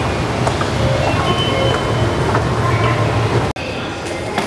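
Limited express train at a Tokyo Station platform bound for Ueno, a loud continuous rumble of the train and station noise with a brief sharp cutout near the end.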